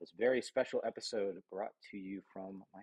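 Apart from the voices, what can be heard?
No everyday noises stand out.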